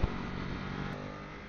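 A motorcycle rides the Tail of the Dragon back road, taken slowly at the start of the run: a steady, fairly quiet engine drone and wind rumble that holds throughout without distinct revs.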